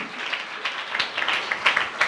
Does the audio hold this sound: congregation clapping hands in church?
yes